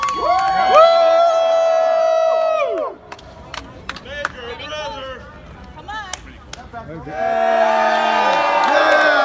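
A crowd at a wrestling meet and greet cheers and whoops loudly, with sharp claps and shouts, dropping to quieter chatter and scattered claps mid-clip before erupting into loud cheering again.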